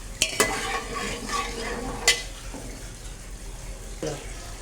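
Ground spice mix hits hot curry gravy with a steady sizzle, broken by a few sharp clinks of a spoon stirring against the pot.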